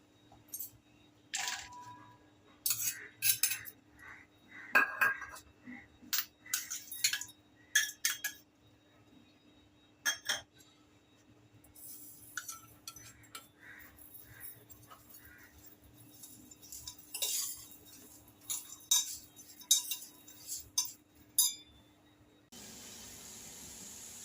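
Raw mango being mixed with sugar, jaggery, red chili, cinnamon, cloves and salt in a bowl: scattered light clinks and scrapes of a spoon against the bowl in irregular bursts over a quiet background hum.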